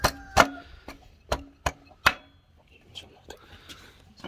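A repaired machine knocks with sharp, irregular ticks, several loud metallic raps spaced unevenly and heard close up, with a few fainter taps trailing after.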